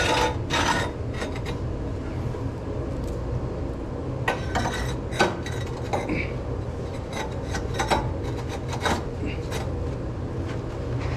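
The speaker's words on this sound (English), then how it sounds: "go ahead and put our lower unit of bricks on first with our grate" Fire bricks being set into the firebox of a Kuuma Vapor-Fire 100 wood stove along with the grate, giving steady scraping, rubbing and clinking of brick against steel, with intermittent knocks.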